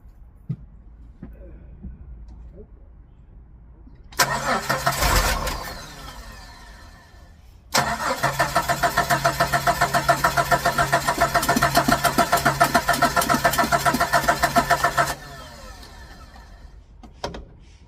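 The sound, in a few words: Jeep YJ engine cranking and starting after starter fluid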